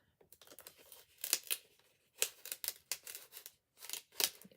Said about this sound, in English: So now we're going to die cut this